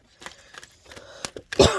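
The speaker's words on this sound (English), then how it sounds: "I'm going to shuffle this way." Earth Magic oracle cards are shuffled by hand, with several soft taps and slides of card stock followed by a louder riffling burst near the end, all close and without talk.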